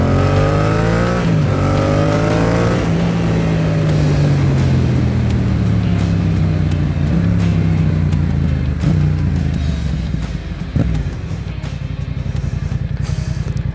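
A motorcycle engine revs and pulls hard as the bike climbs up and over a rise, loud and close, the pitch rising and falling with throttle changes and continuous wind and road roar throughout.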